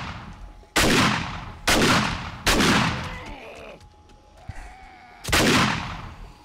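Shotgun blasts in the zombie survival game 7 Days to Die during a horde night: four loud, sharp booms spaced about a second apart, each trailing into a short decay, with brief quieter game noises between them.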